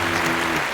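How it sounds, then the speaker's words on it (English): Short burst of dense applause and clapping at a birthday celebration, steady and fairly loud for under a second with no talking over it. "Cue the applause."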